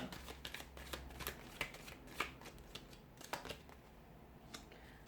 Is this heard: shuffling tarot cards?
yes